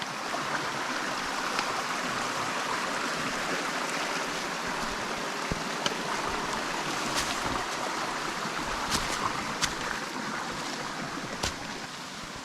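A forest creek in the Quehanna Wild runs nearby with a steady, continuous rush of flowing water, loud and even throughout, with occasional small splashes and clicks on top.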